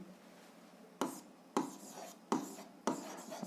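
A pen writes in an exercise book during an algebra lesson, giving soft scratchy strokes in short bursts with sharp onsets, fairly quiet and close.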